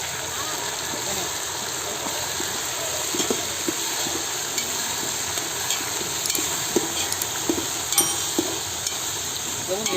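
Curry leaves, peanuts and chana dal fry in hot oil for a large batch of upma rava, giving a steady close sizzle with scattered pops and stirring clicks throughout.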